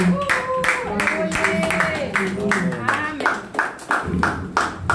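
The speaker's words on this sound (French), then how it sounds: "Nous allons acclamer très fort pour la gloire du Tout-Puissant." A church congregation claps in steady rhythmic unison during lively worship, with voices singing and shouting over the beat, loud and close throughout.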